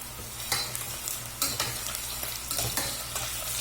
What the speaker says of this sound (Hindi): जीरे के बाद इसमें थोड़ा सा मैं सूखा धनिया मेरे पास है, ये मैंने डाल दिया बहुत थोड़ा सा।